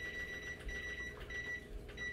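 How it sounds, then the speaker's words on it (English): A kitchen timer on a live cooking stream gives high electronic beeps in short repeated bursts with small gaps between them, fairly faint over a low background hum. "so I'm gonna set my timer"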